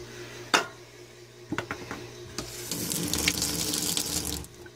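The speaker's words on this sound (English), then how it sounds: "I'm using sink with running water." A kitchen sink tap in an off-grid setup opens and runs, a steady hissing stream of water following a few sharp clicks and knocks, fairly close and with no talking.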